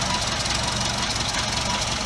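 A Volkswagen Golf mk2 engine idles steadily on its newly fitted exhaust muffler, an even, close, fairly loud rumble with a fine rapid pulse and no talk.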